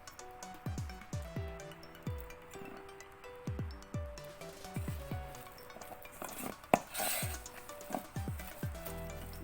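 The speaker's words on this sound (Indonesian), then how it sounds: "Jadi aku ngaduknya pakai sendok saja." A spoon stirs spicy meatball dough in a bowl, making repeated soft scraping and clinking strokes at close range in an uneven rhythm, all fairly quiet.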